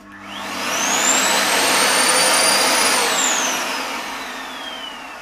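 A repaired electric motor driving a turbine, powerful but running very hot, spools up to a loud, steady high-pitched whine with a rising and falling tone, holding for several seconds before easing off; no talk.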